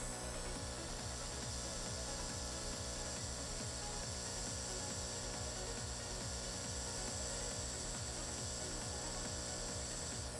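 A hot air rework tool blows heat onto the chip of an intermittently failing MR16 GU10 LED bulb. It gives a loud, steady, unbroken airy roar with a faint rhythmic mechanical flutter underneath, lasting the whole clip.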